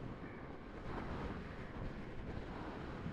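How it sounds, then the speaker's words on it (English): Steady wind buffeting the microphone while riding a 15000-watt Bomber electric bike uphill, a broad continuous rushing roar with no breaks, loud and close throughout. "Wind is really blowing my head around."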